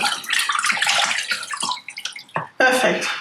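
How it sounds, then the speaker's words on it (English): Running water splashes steadily as raw chicken is rinsed and squeezed under a tap, with a few brief pauses and gurgles. "So I just wash my chicken nicely, kind of squeeze the water."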